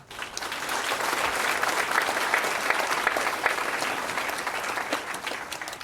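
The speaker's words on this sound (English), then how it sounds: "Give a big applause." A university convocation crowd applauds steadily, a dense wash of clapping hands that holds at an even level for several seconds.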